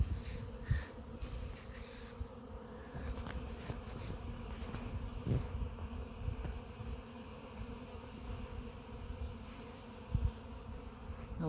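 Honeybees busy foraging after several days of rain make a dense, continuous buzzing swarm close by, with individual insects flitting past in brief louder swells over the steady outdoor hum.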